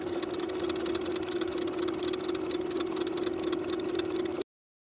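A sewing machine stitches a waistband on elastic-waist culottes with a 1/2 inch seam allowance, giving a steady, even motor hum with a fast rattle of needle ticks throughout, which cuts off abruptly at the end.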